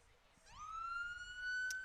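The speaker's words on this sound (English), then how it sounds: "Got some sirens wailing in the background." A police siren wails from a distance behind a varsity high school baseball game, a single rising tone that climbs and then holds steady, faint but growing slightly louder.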